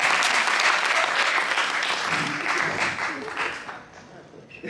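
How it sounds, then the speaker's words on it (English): Loud audience applause at a horror makeup show at Universal Orlando, dense clapping from many hands that gradually thins and fades toward the end. "Give her a big round of applause."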